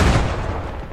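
Gunfire in the Post Scriptum World War II video game, a loud, close heavy gun blast whose booming tail rolls off over a second with no talk.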